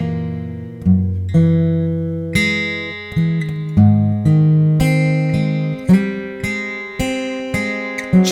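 Guitar picking out a single-note line from a song lesson, a string of clear plucked notes in an even rhythm, close and fairly loud, with no voices.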